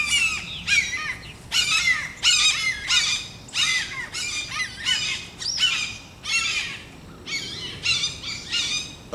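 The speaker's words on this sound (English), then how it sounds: "They're having a battle, the hawks. It's like a red hawk. They squawk and fight, argue, demonstrate." Red hawks squawk and fight, giving a run of harsh, rasping calls in quick repeated bursts, loud and fairly close, with no one talking over them.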